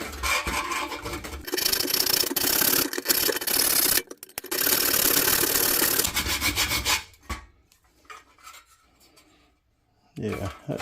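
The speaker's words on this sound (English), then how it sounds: "Chainsaw chain file 3/16." Rasping strokes of a 3/16 round chainsaw chain file, loud and close, a dense run of rough scraping passes for about seven seconds, then a few faint scrapes and light taps.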